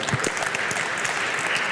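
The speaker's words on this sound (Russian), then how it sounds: "Вот, аплодисменты Кругеру." Audience at a community year-end awards gathering applauding, dense continuous clapping from many hands, fairly loud and close, with no voices over it.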